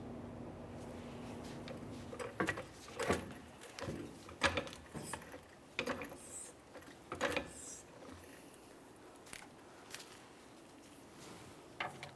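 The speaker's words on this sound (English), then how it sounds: "This can be done using a floor jack under this area." Floor jack raising the rear suspension of a 2003-2007 Honda Accord, with a series of sharp metallic clicks and ratcheting clunks at irregular intervals, fairly quiet over a low background hum.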